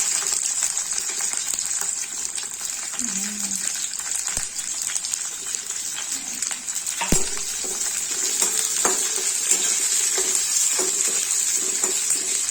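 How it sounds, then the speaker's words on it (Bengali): Capsicum and garlic frying in a kadai, a continuous bright sizzle broken by scraping knocks and clicks as the pan is stirred. "এবার ক্যাপসিকাম গুলো দিয়ে দেবে।"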